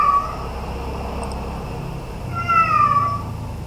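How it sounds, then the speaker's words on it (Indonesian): A cat meows loudly in the background of an online programming class, with two drawn-out calls near the end of a steady room hum. "Mohon dihiraukan itu kucing yang di sana ya. Berisik sekali dia."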